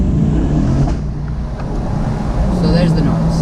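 Chevrolet Corvette C8 under hard acceleration on the road, a loud steady low engine roar with rushing wind and road noise filling the cabin, with a voice speaking over it.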